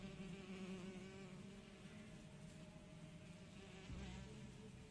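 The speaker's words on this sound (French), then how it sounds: "Ah la mouche." A fly buzzes around the player in the detective game L.A. Noire, a steady insect drone that is moderately close and keeps going the whole time over a low game ambience, with no talk.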